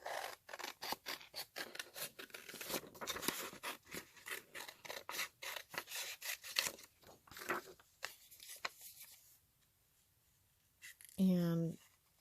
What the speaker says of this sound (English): I'm just going to cut one out now